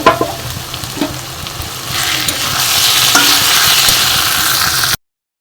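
Snake gourd and scrambled egg fry in oil as a spatula scrapes and stirs the pan, a few close clanks at first, then a steady loud sizzle that swells and holds before cutting off.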